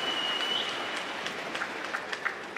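An arena crowd at a badminton final claps steadily for a player rising from the court floor, a broad wash of applause with scattered sharper claps, moderately distant and without speech.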